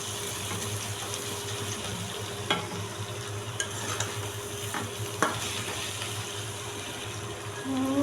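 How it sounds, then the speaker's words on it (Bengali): Shutki bhuna, dried fish cooked with potato and garlic, sizzles steadily in a hot pan, with occasional spatula scrapes and taps standing out from the constant frying hiss. "একদম ভাজা ভাজা করবো ভুনা ভুনা করবো"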